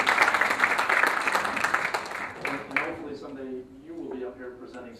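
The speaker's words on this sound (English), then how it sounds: "Give him a round of applause just for that." Applause from an audience at an EMS conference on safety and risk management, fairly loud at first and then fading, giving way to someone talking over the tail end.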